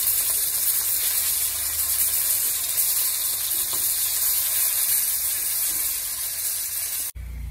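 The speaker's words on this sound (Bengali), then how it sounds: "ডালটা দেখো আমি সুন্দর করে ভেজে নিচ্ছি" Mung dal fries in a pan with a steady, close hiss and sizzle that holds for several seconds before cutting off briefly near the end.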